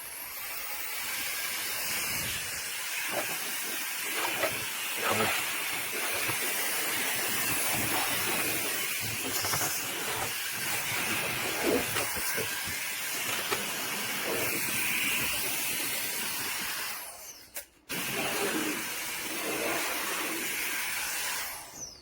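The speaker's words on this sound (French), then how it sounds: "on va faire un test de ventilation pour voir un peu la concentration du flux, la puissance et le bruit qu'il fait" A K&F Concept BS200 electric air blower runs continuously with a strong, airy hiss and whine, holding steady for about twenty seconds before a brief dip and resuming, close and loud.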